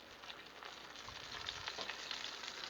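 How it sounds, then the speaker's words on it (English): Breaded chicken parmesan fries in oil on a Blackstone flat-top griddle, giving a steady, crackling sizzle that grows slightly louder and denser as it continues, with no voices. "Get that sizzle back going."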